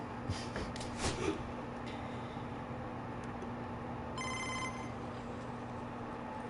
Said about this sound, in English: Looks like we got another phone call.